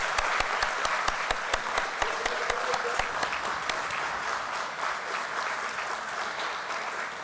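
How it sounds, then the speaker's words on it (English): Audience applause at a corporate memento presentation for Piramal Pharma Limited: a loud, dense wash of many hands clapping, with sharp individual claps standing out early, then settling into a steady, slightly softer roar to the end. "That calls for an applause, ladies and gentlemen"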